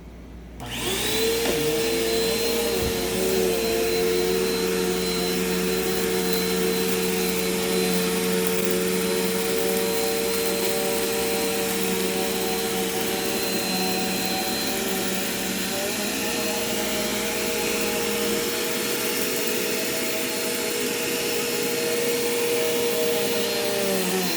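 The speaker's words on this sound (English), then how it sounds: "we're going to vacuum up some potato flakes as well as shredded paper" A Dirt Devil Quick Power Cyclonic vacuum cleaner runs loud and steady with a high whining motor tone, sucking up potato flakes and shredded paper continuously with no pauses.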